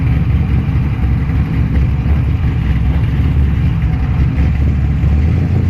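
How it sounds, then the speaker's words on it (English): A turbocharged BMW drag car engine runs loud and steady, a deep, continuous idling roar with a slight rise and fall of revs, close by at a drag strip, with no talking. "This BMW is turbocharged."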